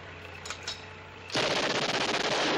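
Sustained machine gun fire in a WWII TV drama battle scene, erupting suddenly after a quieter stretch and continuing as loud, rapid, dense bursts to the end.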